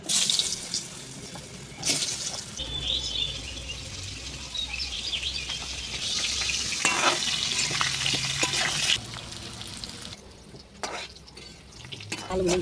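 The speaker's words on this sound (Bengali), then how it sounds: "আলু ভাজা হয়েছে, এখানে তুলে নেবো।" Potatoes fry in hot oil in a wok with a loud, steady sizzle, broken by scraping stirs and a brief spell of running tap water, with a voice speaking now and then.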